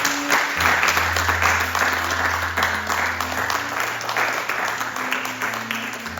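A church congregation applauds and acclaims the Lord during a worship service, with steady loud clapping sustained for about six seconds over a held organ or keyboard chord.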